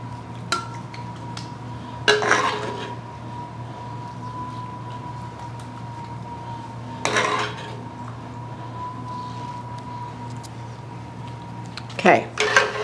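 Lasagna sauce ladled into a casserole pan, heard as three separate bursts of metal ladle clinks and scrapes against the pan over a steady low hum and faint tone.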